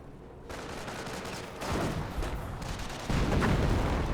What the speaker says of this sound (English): Misses the mortar shot there.